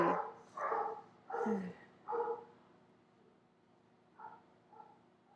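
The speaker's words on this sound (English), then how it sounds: "my dogs are going crazy" Several dogs bark in a quick burst of four or five loud yaps, then two fainter barks follow after a short lull, heard indoors at close range.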